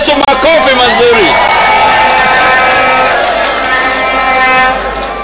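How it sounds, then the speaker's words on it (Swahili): A congregation at a county ceremony cheers and applauds for Jesus, a loud, dense crowd roar that swells and holds steady throughout, with a brief high whistle near the start. "pigia Yesu makofi mazuri"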